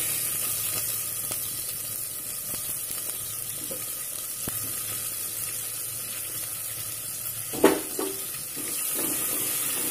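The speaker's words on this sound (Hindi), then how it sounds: "ये जब तक मेरा प्याज भून रहा है" Onions frying in hot spiced oil for dhaba-style chana dal, a steady soft sizzle throughout with a few faint clinks and a brief stirring scrape near the end.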